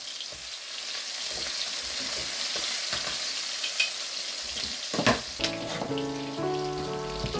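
Pork liver frying in a pan, a steady close sizzle of fat running throughout, with sharper crackles and a clatter of utensil or pan noise in the later seconds.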